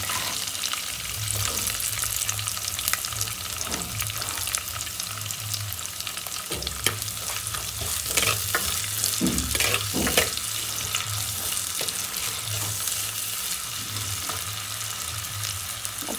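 Big onions sauté in oil for a Jaffna-style prawn curry, a dense, constant sizzle broken by scattered scrapes and knocks of stirring.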